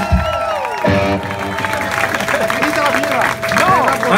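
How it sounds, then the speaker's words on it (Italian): A concert audience claps and cheers with whistles cutting through, mixed with voices and lingering tones from the stage. "Un applauso a Ciampa!"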